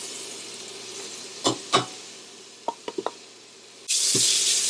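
Peppers and onions hit hot olive oil in a pan with a sudden, loud, steady sizzle, after a few short clinks and taps of cookware.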